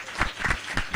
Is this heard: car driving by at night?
no